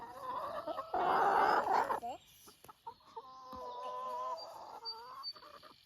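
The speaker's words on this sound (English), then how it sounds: "Chickens love Jubilee." Chickens clucking and squawking close by, with a loud burst of excited calls early on and then softer, repeated clucks, with people talking intermittently.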